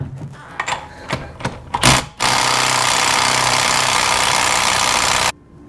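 An impact wrench hammers on the wheel lug nuts of a Dakota pickup truck, first a few short bursts, then one long continuous rattling run that stops abruptly near the end.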